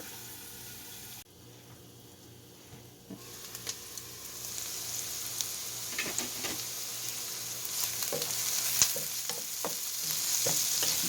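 Mushrooms and onions frying over medium heat in a lidded pan, a soft sizzle that grows louder once the lid comes off, broken by a few scraping stirs and light utensil taps.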